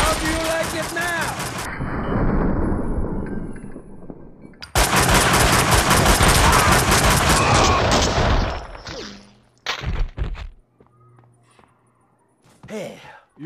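Rapid automatic gunfire and explosive shots from the video game Max Payne 2 fill long loud bursts, with voices speaking among them and quieter gaps between the volleys.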